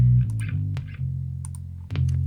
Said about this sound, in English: the post is going to be his distortion pedals and reverb pedals